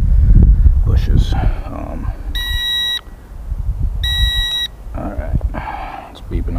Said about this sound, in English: Alright, it's beeping on me, I don't know why.